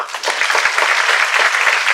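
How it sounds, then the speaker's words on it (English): Audience applause following a keynote speech by Kumar Rajagaopalan, a loud, dense wash of many hands clapping steadily for two seconds with no voices over it. "a warm round of applause for Mr. Kumar Rajagaopalan for that wonderful keynote speech"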